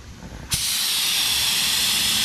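Auto paint spray gun triggered on, a sharp onset followed by a steady, loud, broad hiss of air and paint that continues without a break.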